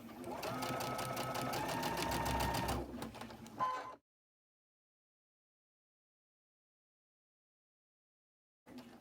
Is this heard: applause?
no